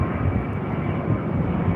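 A Qantas Boeing 737-800 jet gives a steady broad engine roar at moderate distance, continuous through the short stretch without talk.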